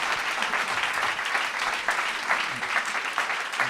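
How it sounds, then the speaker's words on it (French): Applause for a woman receiving a digital intrapreneurship award, a sustained, moderately distant round of clapping from the audience that stays steady without pause. "Vous êtes très applaudi."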